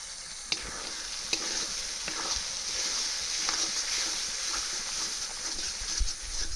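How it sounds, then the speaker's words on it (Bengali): Yogurt-laced spice paste for doi potol fries and sizzles in a pan, a steady hiss running throughout with a few sharp scrapes and taps as a spoon stirs it. "মশলাটা কষানো হয়ে গেছে মশলার থেকে তেলটা বেরিয়ে এসেছে"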